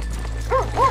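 Horses in Red Dead Redemption 2 on a side street off a town's main drag, with a couple of short hoof clops and a faint whinny-like tone, fairly close, over a low steady hum.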